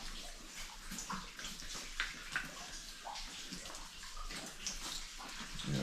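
Water dripping inside a flooded historic underground mine in New Zealand, a scatter of irregular drips and splashes echoing over a steady, soft wash of background noise.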